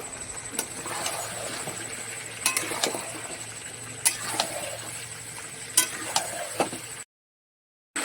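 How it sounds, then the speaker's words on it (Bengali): Meat with chui jhal, garlic and potato is sautéed in a pan: a steady sizzle runs throughout, broken by sharp clinks and scrapes of a spatula against metal, before a short silence near the end. "রসুন, আলু সুন্দর করে কষিয়ে নেব।"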